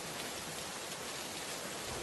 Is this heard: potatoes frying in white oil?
no